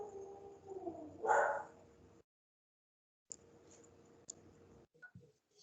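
Pet dogs at a home bark several times, one loud bark up close and then a few sharper yips and whimpers further off, broken by a short silence, with no voices over them.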